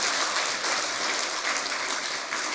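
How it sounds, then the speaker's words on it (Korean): A church congregation at a pastor's retirement service bursts into applause, a dense, steady wash of many hands clapping that fills the room for a few seconds without any speech. "박수라도 한번 해보세요."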